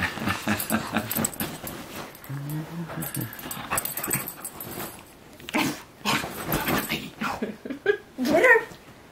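A Labradoodle puppy plays on a bed on Vancouver Island, with soft whimpers, yips and scuffling throughout and a sharper burst of excited puppy noise near the end, while a person talks playfully over it.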